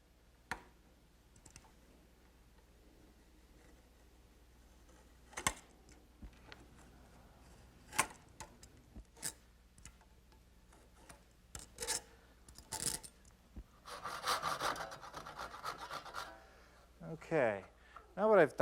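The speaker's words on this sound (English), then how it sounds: "now by using my utility knife, I'm going to back cut it using the square as a guide for the blade" A utility knife scores wood along a steel square in several passes, with scattered light scratches and clicks, then a longer rasping cut near the end, all close and fairly quiet.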